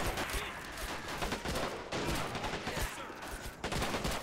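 Dense, sustained gunfire rattles through a World War II Pacific beach assault in the Rising Sun game mod, with overlapping rifle and machine-gun bursts and distant booms forming a continuous, loud barrage with brief lulls near two and three and a half seconds.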